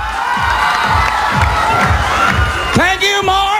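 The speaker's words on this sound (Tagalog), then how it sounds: "Sumisigaw lahat ng mga tao dito, nabibingi ako" A live television dance showdown audience screams and cheers loudly for breakdancers, a dense sustained roar of voices with whoops, and a host's voice cutting in near the end.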